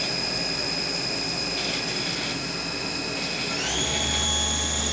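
A 1993 Takisawa MAC-410V vertical machining center spindle spinning at 3,000 RPM gives a steady, loud high-pitched whine with a hum beneath, rising slightly in pitch near the end as it speeds up.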